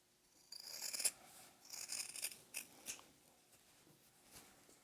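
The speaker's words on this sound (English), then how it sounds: "I'm trimming fairly close, but not so close that I might accidentally snip my stitches" Scissors make crisp, close snips while trimming excess fabric near the stitching of a sewn bowl cozy, arriving in several short bursts with quiet pauses between them.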